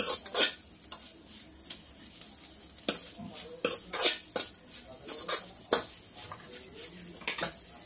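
Soybeans frying in a pan and being stirred, with repeated sharp scrapes and clinks of a spoon against the metal over a faint sizzle, irregular and close, no talking.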